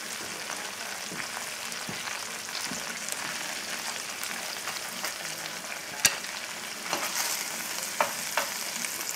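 Pork chops crusted in corn meal and caraway sizzle steadily in a hot pan, a dense continuous frying hiss with occasional sharp pops and spatters, no voices.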